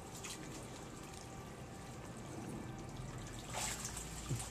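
Water draining out of a crayfish tank, a soft continuous trickle and splash at close range, fairly quiet, with a few brief spatters.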